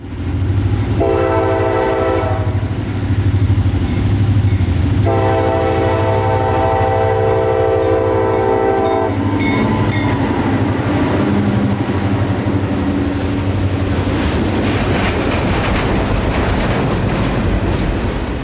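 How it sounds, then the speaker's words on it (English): Two diesel freight locomotives labor heavily uphill out of the Little Manatee River Valley, engines droning loud and close while a horn sounds in two long blasts over clattering wheels. "these 2 locomotives had to work their hardest to pull the train up and out of the Little Manatee River Valley."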